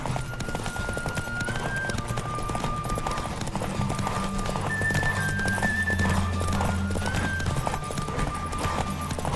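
Roach, Geralt's horse in The Witcher 3, gallops steadily with rapid, continuous hoofbeats over game music and ambient wind, with a brief whinny partway through.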